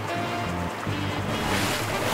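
Ocean waves crashing against a LEGO boat, a loud continuous roar of surf and churning water filling the whole clip, close and steady with no voices.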